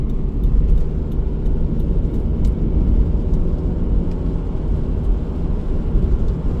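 Steady, dense road and engine rumble from inside a Subaru Legacy with pedal shifters, cruising along an everyday non-motorway road up to the tip, loud and continuous throughout with no talking.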